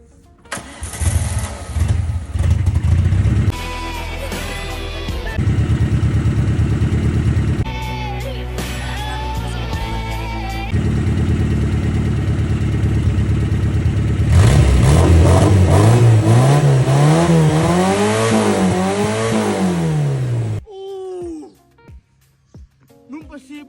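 A used car's engine starts and runs, then revs up and down in several rising and falling sweeps. The engine is loud and close, with someone talking over the first part and a brief quieter stretch at the end.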